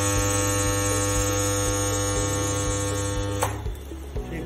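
A pneumatic ring butt welding machine joins a 16mm ring, giving a loud, steady electrical hum with regular low pulses and a sharp crackling burst near the end.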